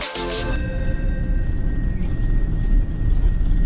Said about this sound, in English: After a short taxi, we are set for takeoff.